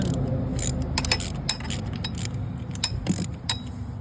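Ratchet clicking in short bursts while snugging the clutch cover bolts on a Kawasaki KLX140, close by, with metallic clinks between strokes and a low background hum.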